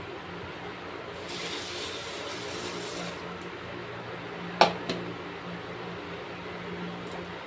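Water pours into a pressure cooker pot holding chopped potatoes for about two seconds, fairly quiet, followed by a sharp metallic clink and a low background hum.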